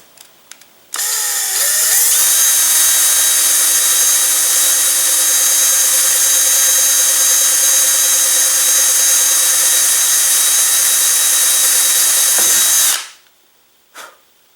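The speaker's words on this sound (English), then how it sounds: "I'm going to drill a pilot hole" A power drill with an 11/64 bit whines loud and steady for about twelve seconds as it bores a pilot hole into a rocket's avionics bay, then winds down.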